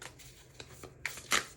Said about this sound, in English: as I shuffle, sometimes the card goes like that, but then flips right back in